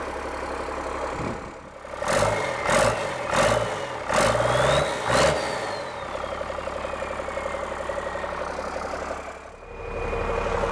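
A Cummins diesel engine fitted in a Land Rover 130 idles nearby with a steady mechanical drone, broken early on by several short throttle blips before it settles back into an even idle.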